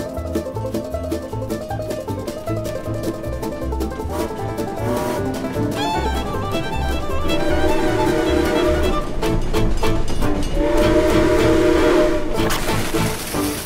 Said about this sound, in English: The train's coming that way!